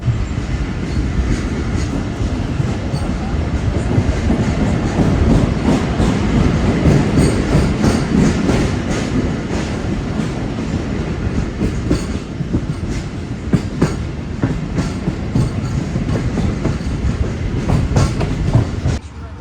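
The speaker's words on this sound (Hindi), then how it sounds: "ट्रेन हमारी निकल रही है जंगशाई रेलवे स्टेशन से" An Awam Express passenger train pulls out of Jungshahi railway station, a loud continuous rumble of rolling wheels with rhythmic clacking and occasional sharp clicks throughout.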